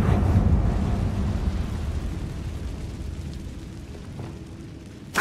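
A Confringo explosion spell goes off in the video game Hogwarts Legacy: a loud, deep rumbling blast that slowly fades over several seconds, followed by a fresh sharp burst at the very end.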